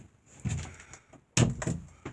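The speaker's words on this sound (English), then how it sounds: "This very nice large door is our bathroom. You open the door" Large bathroom door in a converted skoolie bus being opened, two clunky bursts of wood and latch knocks with a sliding rattle, close and moderately loud.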